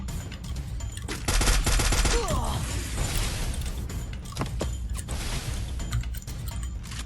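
Free Fire video game gunfire: rapid automatic bursts and rattling mechanical clatter, loud and dense, with sharp shots continuing in stretches amid game effects, no speech over it.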